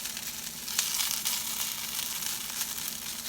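Potatoes frying in a pan, just starting to brown, give a steady, even sizzle with faint crackles throughout, and no one speaks.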